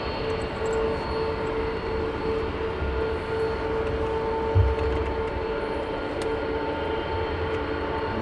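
A United airliner at Heathrow Airport produces a steady, even engine roar with a sustained tonal whine, constant in level throughout and heard alone.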